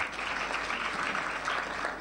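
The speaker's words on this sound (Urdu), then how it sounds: "ان کے لیے ایک اور تالی بجا دیجیے" Audience applause at a school children's assembly, a continuous even patter of many hands clapping throughout, fairly close and steady, with no speech on top.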